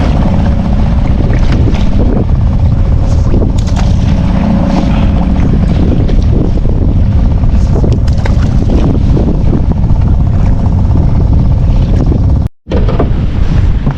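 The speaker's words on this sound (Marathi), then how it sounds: "वारा पण आहे पाऊस पण आहे" Strong wind roars steadily across the microphone at sea on a fishing trip, a dense continuous rush with rain mixed in, no voices.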